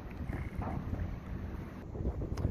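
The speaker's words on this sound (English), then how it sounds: "I know it's a little windy" Wind buffets the microphone in a constant low roar at off-season Seaside Heights, New Jersey, with faint splashing water in the background and no voices.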